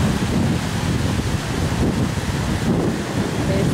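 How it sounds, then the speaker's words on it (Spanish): Sea waves and strong wind at Coveñas beach, Colombia, roar as a constant loud wash with gusts buffeting the microphone and no voices. "Este es el hermoso mar de Coveñas."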